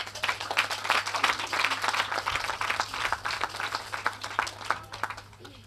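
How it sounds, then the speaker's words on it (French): A crowd applauds with dense, sustained clapping that tapers off slightly near the end. "Monsieur Bako Liamidi, que je vous demande d'applaudir très très fort."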